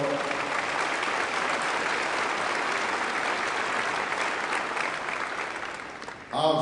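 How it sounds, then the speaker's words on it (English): Sustained applause fills a room at a men's college basketball banquet, a dense even clatter of clapping holding steady for several seconds before a brief dip and a louder burst at the end. "Can you please give them a round of applause?"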